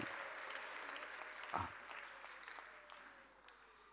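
A church congregation claps steadily, with dense applause fading gradually, and a brief thump partway through.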